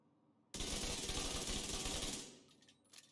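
SMG gunfire in a video game build, a loud rapid burst of automatic shots lasting about a second and a half, then trailing off with a couple of faint echoes.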